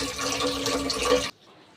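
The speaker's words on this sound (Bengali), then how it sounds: "এখানে চালটা ধুয়ে নিই ততক্ষণ" Rice is rinsed in water, splashing and sloshing steadily for just over a second before stopping abruptly, leaving near silence.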